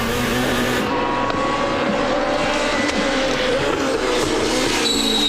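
Engine of a 2007 WTCC touring race car heard onboard on a lap at Valencia, a loud, sustained, high-revving drone with shifting pitch from gear changes, filling the whole stretch.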